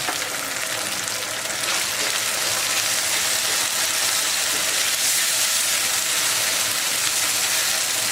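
Sliced onions frying in a pan as light soy sauce is poured in: a steady, loud, close hissing sizzle that holds evenly throughout, with no talking.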